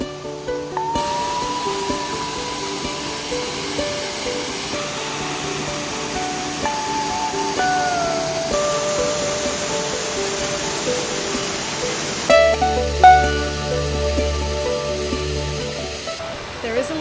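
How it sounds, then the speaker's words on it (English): Steady rushing roar of a waterfall along the Great Ocean Road in Australia, a constant broadband wash of running water heard close with a few voices and brief clatter near the end. "We can hear the waterfall."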